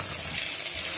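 Aloo paratha fries in ghee as a steady, bright sizzle and crackle in a pan while it is flipped and moved gently, close and continuous with no speech.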